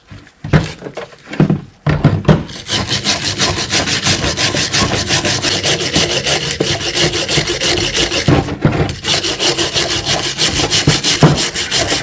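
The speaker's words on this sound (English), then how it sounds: "Take a file to it now that I've got some of the rust off" A hand file scraping rust off a metal part, steady rhythmic rasping strokes that start after a few scattered knocks and run continuously, close and fairly loud, with one brief pause.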